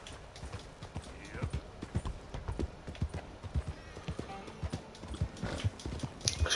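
Horse hooves clip-clop at a steady walking rhythm in Red Dead Redemption, close and distinct over a quiet game ambience, with a brief soft snort near the end.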